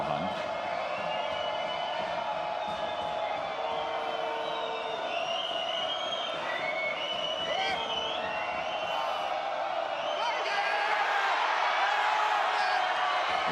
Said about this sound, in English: And this place is cheering for the right reasons now